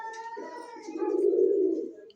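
A male pigeon held in hand at a bird market gives a short, close, low cooing call lasting about two seconds, rising toward the end.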